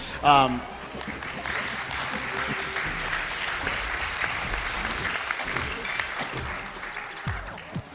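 Enthusiastic applause from a live audience at a speedrun event of the game Rayman Legends, steady dense clapping lasting several seconds after a brief vocal cheer at the start.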